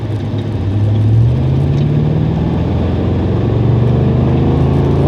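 A 1986 Monte Carlo SS with a 373 rear end and rebuilt 200-R4 transmission doing doughnuts, its V8 engine droning loud and steady as the revs climb and hold, with a rising pitched whine through the spin.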